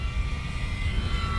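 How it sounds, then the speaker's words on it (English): An E-flite Commander radio-controlled model airplane flies overhead, its steady electric motor and propeller producing a continuous buzzing drone with a faint high whine, holding fairly loud and even throughout with no talk. "I like this airplane."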